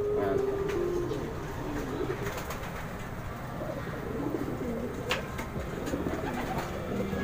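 Homing pigeons coo in low, soft, repeated calls across a steady outdoor background, with an occasional faint rustle but no talking.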